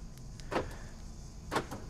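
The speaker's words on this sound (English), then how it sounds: "So I'm gonna use the remote and lock that door now." Ford Falcon Fairmont or Territory car door locking by remote, heard as two short, sharp mechanical clicks about a second apart, quiet and close, with nothing else around them.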